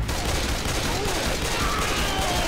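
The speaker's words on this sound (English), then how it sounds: "Keep shooting!" Sustained rapid gunfire from Left 4 Dead 2, a dense continuous stream of shots at steady loudness throughout, with faint voices mixed underneath.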